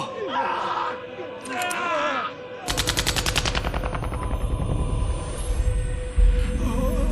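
Sustained soldier gunfire from Final Fantasy XIII erupts after a few seconds of voices and shouting, a loud rapid automatic burst with dense repeated shots continuing under game noise and talk.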